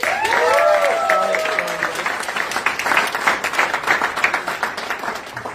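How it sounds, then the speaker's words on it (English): Audience applause at a company gathering honoring staff: dense, steady clapping from a roomful of people, loudest at the start with some high whoops, then continuing as a thick, slowly thinning patter. "Give a round of applause to these guys."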